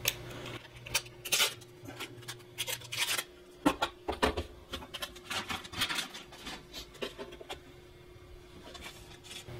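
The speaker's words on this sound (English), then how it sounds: "we got the motherboard out of its packaging" Cardboard and plastic packaging rustle and scrape in close, irregular bursts as an MSI P67A G45 motherboard is unpacked.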